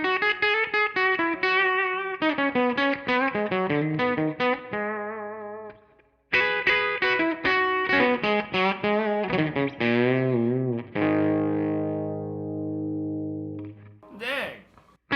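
Lightly overdriven electric guitar through an Ariel Posen One pedal plays quick melodic runs, then lets a warm chord ring out before a final short strum, close and full.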